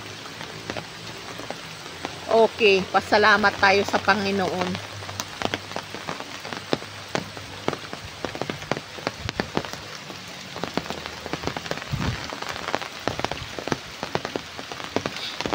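Heavy typhoon rain patters steadily on surfaces around an old house, with sharper drips and splashes throughout, while someone speaks briefly near the start.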